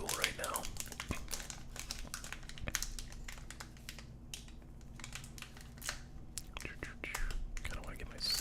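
Thin foil-and-plastic wrappers of 2023 Topps Series 1 baseball card packs crinkle in quick, close bursts, separated by brief pauses, with soft whispery voice at times.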